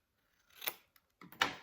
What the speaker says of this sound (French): je prends mes ciseaux et je viens donc biseauter